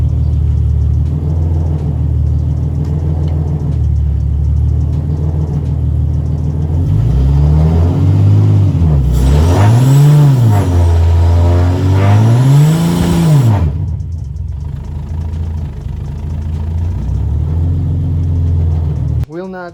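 A Ford AU Falcon with an automatic gearbox starts for the first time in years. Its engine idles loudly, then revs up and falls back twice in long sweeping surges before settling into a steady idle again.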